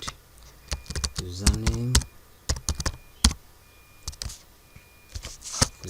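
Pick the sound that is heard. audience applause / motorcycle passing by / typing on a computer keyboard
typing on a computer keyboard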